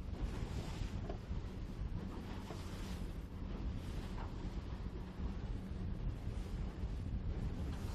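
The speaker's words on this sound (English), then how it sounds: "Still a good patch of wind we're in here." Steady wind buffets a boat in the middle of a harbour during a sailing race, a constant broad rush with water and surf noise beneath it and no voices.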